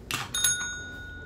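A small bell rung twice in quick succession, bright metallic dings that ring on and fade, heard close up during play with a pet.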